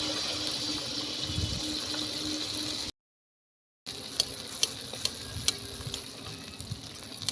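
Lau pitha batter made with bottle gourd frying in hot oil, a steady close sizzle that cuts out briefly for about a second, then returns with sharper crackling pops.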